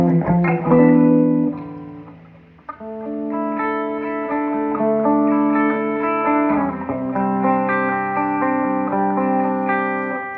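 Distorted electric guitar plays sustained, heavily overdriven chords, loud and thick, with a brief dip before the chords ring on steadily.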